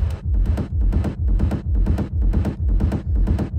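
A dense, rolling techno rumble bass made in Ableton pulses in steady, regular surges, loud and low, with no drums or voices on top.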